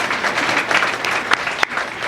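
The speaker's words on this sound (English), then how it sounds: "Give it another round of applause for Councilmember Eric Olson." A city-hall audience at a State of the City event gives a short burst of applause, dense steady clapping from a crowd, moderately loud, heard alone for about two seconds.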